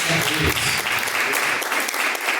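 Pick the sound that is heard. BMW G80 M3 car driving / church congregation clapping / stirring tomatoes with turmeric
church congregation clapping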